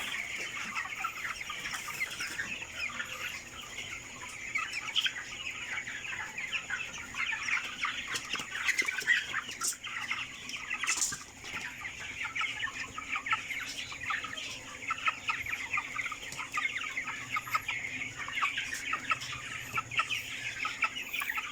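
Broiler chickens 25 days old cluck steadily throughout a farm house, a dense chorus of many birds at close to middle distance with no talk over them.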